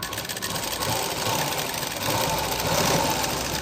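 Sewing machine running steadily while stitching a side seam on garment fabric, a continuous mechanical whirr with a fine rapid rhythm that holds close and even throughout with no talk.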